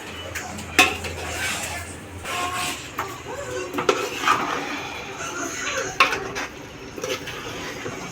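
Chicken pieces are stirred into masala in a pot, with repeated scraping and clanking of a spoon against metal, loud and close, in an irregular rhythm.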